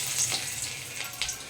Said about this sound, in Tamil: கொஞ்சமாக எண்ணெய் ஊற்றிக்கலாம். எண்ணெய் நல்லா காஞ்சதும் நறுக்கி வச்ச பூண்டு,